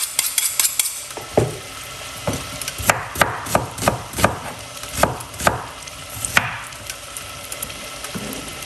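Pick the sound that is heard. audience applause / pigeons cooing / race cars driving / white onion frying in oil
white onion frying in oil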